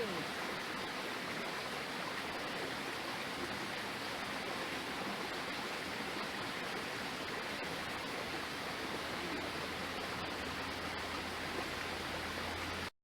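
Creek water flows steadily in a humid forest at Hanging Rock State Park, a dense, continuous rushing wash that stays loud and even throughout with no voices over it, then cuts off abruptly at the end.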